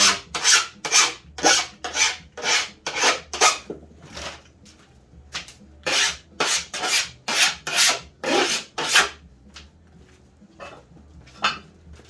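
A hand file rasps along a snowboard's metal edge during tuning, about a dozen close, rhythmic strokes in two runs separated by short pauses.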